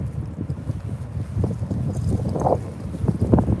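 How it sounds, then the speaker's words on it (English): Steady wind buffets the microphone outdoors in a South Carolina church cemetery, a continuous low rumble with gusty fluctuations throughout. "It's windy out here today"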